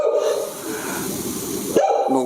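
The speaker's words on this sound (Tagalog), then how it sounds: "Nagbasit nga pa aso, nagdakal tawol na." A small dog barks loudly and steadily, its sharp yaps running close and continuous over about two seconds before a brief break and a final bark.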